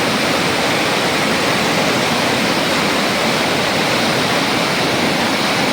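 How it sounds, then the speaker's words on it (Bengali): A Himalayan snowmelt-fed river in a new tourist spot in North Bengal rushes past in a loud, unbroken roar of water, close and constant throughout. "হিমালয়ের বরফ গলা জলে পুষ্ট এই নদী"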